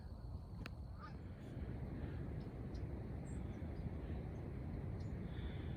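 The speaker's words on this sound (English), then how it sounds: "and the Canada geese." Faint, distant Canada geese honk a few times over a steady outdoor rumble of wind and water along the Ottawa River in the Outaouais, Quebec.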